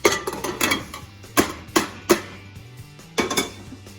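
Broccoli tipped into a metal pan for a broccoli carbonara, heard as a series of sharp clanks and knocks of pan and utensil, several spaced hits close by with no talking.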